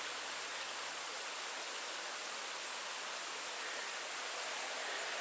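Water flows in a mountain stream near Upper Whitewater Falls and Hillard Falls on the Foothills Trail, a constant, even rushing hiss that stays quiet and unbroken, with no voices.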